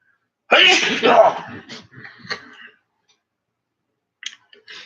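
A person sneezes once, close and loud, with a burst of breath followed by brief sniffing and small mouth sounds, then silence and a faint click near the end.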